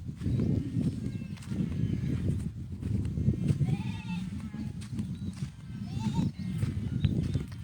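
Cattle in a rural village in Isan, Thailand, with occasional animal calls and shuffling over a steady low rumble of outdoor ambience, a few brief higher cries standing out.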